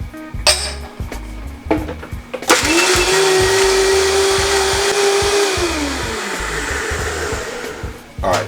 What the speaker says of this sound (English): And we're going to put this into a Vitamix, okay?